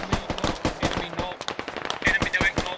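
Rapid automatic gunfire and single shots from the SquadOps military shooter game crack out in quick irregular bursts, loud and close, with a few brief distant pops mixed in.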